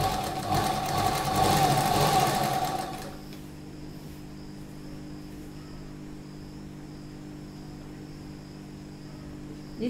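A sewing machine stitches bias binding strips onto a slip in a fast, even whirring run for about three seconds, then stops, leaving a quiet room hum.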